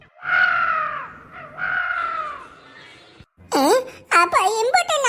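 A crow caws twice in a Tamil cartoon, each a drawn, nasal call, before animated voices break in with shrill, excited speech.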